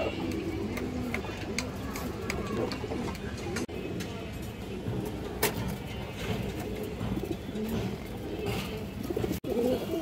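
Pigeons, including a black Kaldom male, coo and call repeatedly in a low, throaty rhythm, close by, over a busy background with a voice talking.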